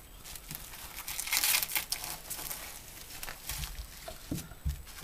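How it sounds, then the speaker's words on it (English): Plastic wrap crinkles and tears close up as it is pulled tight around a rack of ribs, a busy run of rustling and crackling with brief soft thumps. "we're going to wrap it in some plastic wrap"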